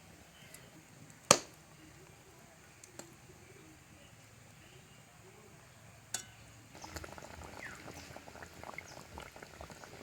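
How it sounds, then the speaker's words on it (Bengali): River chanda fish go into a pot of bubbling fish curry broth. Quiet, continuous boiling is broken by two sharp clinks, then the bubbling grows busier and louder. "ঝোল ফুটে গেছে, এবার মাছগুলো দিয়ে দেব।"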